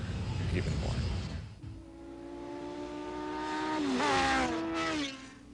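A Kawasaki Ninja sport motorcycle accelerates hard, its engine note climbing steadily in pitch through the gears, rising louder to a peak before dropping away, with voices heard briefly at the start.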